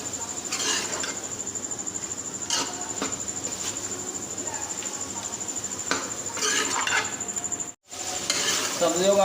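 Carrots, peas, potatoes and mixed vegetables stir-frying in a pan for a dhaba-style mix sabzi, with a steady sizzle and occasional scraping stirs, a high steady whine running throughout and a brief dropout near the end.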